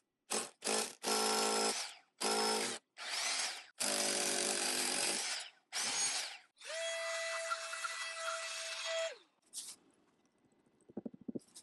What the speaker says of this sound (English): I'm going to pre-drill with a 1/4 inch drill bit so I can try and stay on my mark there